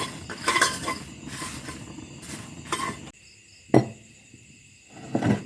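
Salt and chili stir-fried in a pan over low heat, heard as scraping and clattering of a utensil against the pan in bursts, with a soft sizzle and a faint insect-like chirp behind, no talk.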